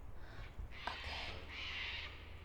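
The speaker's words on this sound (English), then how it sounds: "These are cockatoos that I was talking about." Cockatoos give harsh, raspy screeching calls outdoors in nature, two drawn-out squawks in quick succession, moderately distant and fairly faint against a low background hum.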